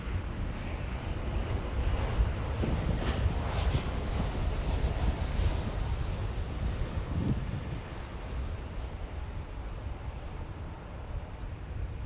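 Southwest airplane at LAX airport, a steady broad roar of jet engine noise that swells and then slowly eases, mixed with wind buffeting on the microphone.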